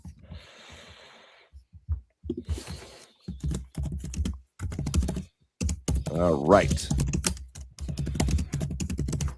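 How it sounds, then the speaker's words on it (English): Aggressive typing on a computer keyboard during a live draft-day show: rapid, hard clattering keystrokes, mostly early on, with several people talking and breathing over and around it. "Who is typing again?"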